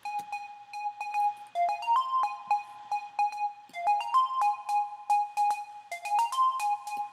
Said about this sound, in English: I'm using this noise amplitude generator to give a little noise when the flutist blows on the flute